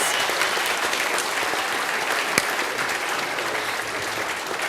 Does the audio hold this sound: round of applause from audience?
yes